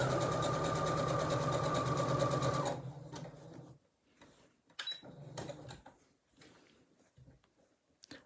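A domestic sewing machine stitches a fabric drawstring activity bag in a rapid, steady run for about three seconds, then stops, leaving faint handling noises and soft clicks.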